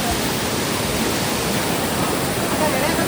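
Water rushing at Bheli waterfall, a steady, dense hiss of flowing water close by, unbroken and fairly loud.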